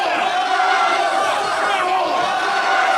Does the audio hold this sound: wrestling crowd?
yes